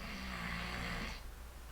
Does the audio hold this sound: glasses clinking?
no